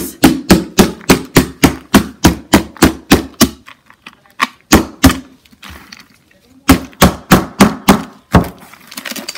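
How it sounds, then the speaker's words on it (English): A chain is hammered into hot encaustic wax in a run of sharp, evenly spaced thuds, close and loud, pausing briefly near the middle before a second burst of rapid strikes. "I'm just going to use this chain and hammer the chain right into the wax."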